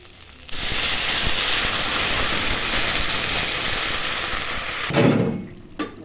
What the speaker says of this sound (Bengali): এখন জল দিয়ে দেবো।